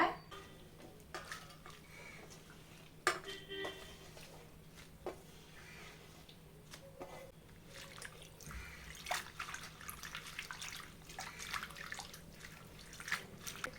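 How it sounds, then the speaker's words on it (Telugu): Gongura leaves are washed in water with faint, close splashing, dripping and swishing that grow busier toward the end, with no talk. "ఇప్పుడు ఈ ఆకులను అయితే నీట్గా మట్టి ఏమీ లేకుండా వాష్ చేసేస్తాను అనమాట"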